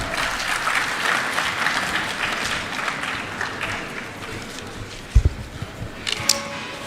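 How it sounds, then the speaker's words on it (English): A conference audience at the Bar Council of India's national mediation symposium bursts into sustained, dense applause, close and steady for several seconds before thinning into a few scattered claps and thumps. "Please give him a big round of applause."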